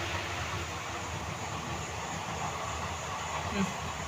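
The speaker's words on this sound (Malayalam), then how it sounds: "അത് അടുത്ത ട്രെയിൻ പോകുന്നുണ്ട്" A train rumbles past nearby with a steady, loud roar and clatter that fills the whole stretch and drowns out other sounds.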